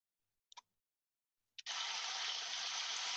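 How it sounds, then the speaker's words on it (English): Water pours through a culvert pipe with a void beneath it: after a couple of brief knocks comes a sudden, steady hissing gush of flow that continues to the end. "We can see that the water begins to travel through the culvert"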